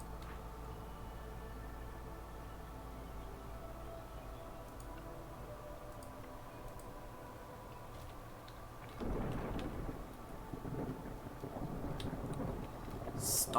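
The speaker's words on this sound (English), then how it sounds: "Storms are coming." A thunderstorm rolls in during the video game Against the Storm, a steady low rumble that swells into a louder crack of thunder near the end, with no voices.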